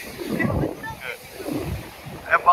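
Strong ocean waves wash up a beach in Kerala, India, rolling in as broad rushing surges with heavy wind buffeting the microphone, while people talk over the surf.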